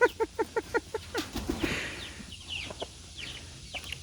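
A rooster gives a rapid string of about seven clucks up close, followed by softer clucking and fluttering from released chickens heading to their feed on a morning farm.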